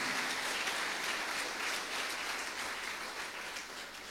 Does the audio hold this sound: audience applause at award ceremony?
yes